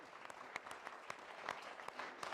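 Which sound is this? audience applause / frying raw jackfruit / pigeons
audience applause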